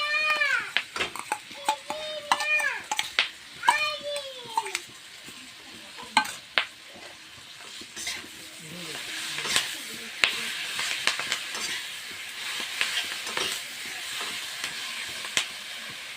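Mustard paste is added to a hot pan and stirred, giving a rising sizzle and steamy hiss with repeated spoon scrapes; the first few seconds carry short mewing or squeaky tonal calls before the frying sound takes over.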